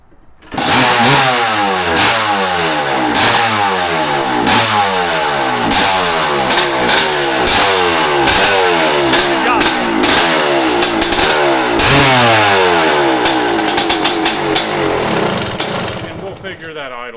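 A worn 1985 Honda CR500 two-stroke motorcycle engine running close and loud after a sharp start, pulsing through repeated rev rises and falls before cutting out, with voices underneath.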